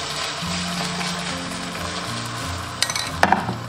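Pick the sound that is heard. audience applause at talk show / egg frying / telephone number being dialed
egg frying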